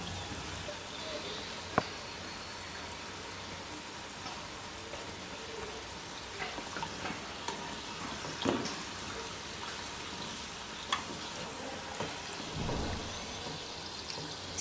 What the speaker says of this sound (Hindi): तो थोड़ी देर और फ्राई करेंगे